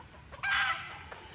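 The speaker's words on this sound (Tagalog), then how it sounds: "Daming manok dito." A rooster or hen gives one short, sharp squawk in a rural village yard, faint background hush around it, no voices.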